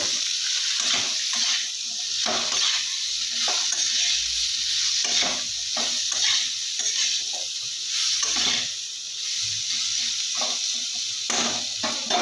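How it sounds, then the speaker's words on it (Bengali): Spice masala with cumin powder sizzles steadily in a pan while being cooked down, with repeated scraping strokes of a spoon stirring throughout, close and fairly loud, no talking. "আমি ভালো করে মশলাটা কষিয়ে নেব"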